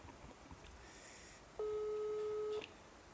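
A single steady phone tone lasting about a second, loud and alone over a faint hiss, as an outgoing telephone call is rejected.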